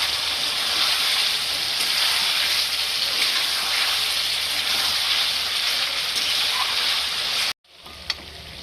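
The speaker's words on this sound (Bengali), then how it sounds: "কাঁচা লঙ্কা দিয়ে দিচ্ছি কটা। এটা আস্তে আস্তে কষিয়ে নেবো মাংসটাকে।" Chicken curry meat frying with green chillies in a pan gives a loud, steady broadband sizzle that runs unbroken until it cuts out near the end, followed by a brief quieter tail.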